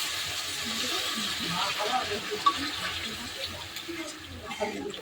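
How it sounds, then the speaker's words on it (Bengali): Water is poured into a pan of lentil fritter curry as a faint, steady trickling hiss close by, with soft kitchen clatter. "এবার আমি এটার মধ্যে জল দিয়ে দেবো। জল দিয়ে দিচ্ছি।"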